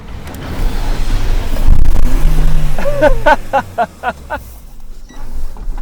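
A Suzuki Jimny's engine winds up on the throttle, a rising roar followed by a run of short, rhythmic pulses as it strains, close and fairly loud, with a voice briefly heard underneath.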